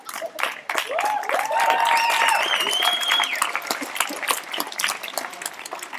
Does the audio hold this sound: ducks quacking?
no